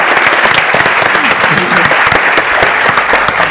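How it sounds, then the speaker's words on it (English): Audience applause at a city science summit conference session, a loud, dense, continuous burst of clapping filling the room throughout. "a big applause for all of them."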